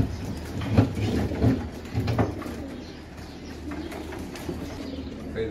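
Pigeons coo nearby in soft repeated throaty phrases, a few calls overlapping against a low background hiss.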